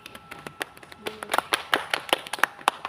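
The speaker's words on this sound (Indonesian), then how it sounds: "tepuk tangan dulu" A classroom group in a micro-teaching lesson claps hands in scattered, uneven bursts, a few sharp claps at first that thicken into a loose patter of several pairs of hands, fairly close and otherwise quiet.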